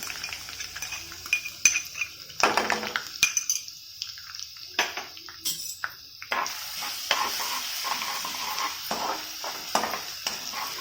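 Chopped garlic and curry leaves sizzle in a hot pan with repeated utensil scrapes and stirring clatter, close and busy, no voices.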